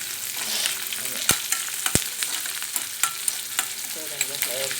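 Ginger and green chillies fry in hot oil for godhuma rava upma, giving a steady close sizzle with sharp pops and utensil clicks scattered through it.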